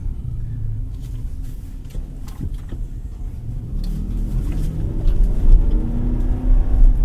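Rumbling 5.6-litre V8 of a 2024 Nissan Patrol LE pulling under acceleration on a test drive, its low drone rising steadily and growing louder over the final seconds.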